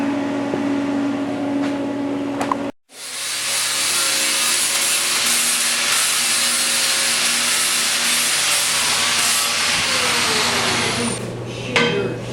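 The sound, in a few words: grinding metal on a rat rod body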